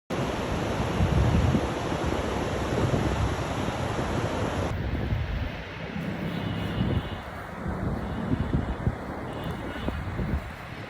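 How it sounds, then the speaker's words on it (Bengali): Ocean waves roar onto the beach at Inani, Cox's Bazar, a loud continuous wash of surf mixed with wind buffeting the microphone; the roar drops slightly partway through. "আপনাদেরকে সমুদ্রের গর্জন শোনাচ্ছি।"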